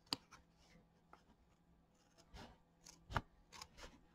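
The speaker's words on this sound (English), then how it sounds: "Let's just trim this off right along this trim line." Scissors make a few sharp, isolated snips, close and quiet, while trimming embroidered quilt-block fabric along a trim line, with soft rustling of cloth between cuts and no talking.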